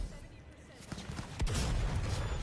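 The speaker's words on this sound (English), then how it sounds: "Oh, I love this shotgun." Shotgun fire in the video game Cyberpunk 2077, a couple of sharp blasts with a heavy boom rolling into a low rumble, set against game noise and a voice talking.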